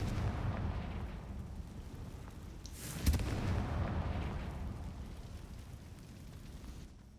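A Confringo spell explosion in Hogwarts Legacy bursts once with a muffled boom amid a low continuous rumble, moderately quiet overall.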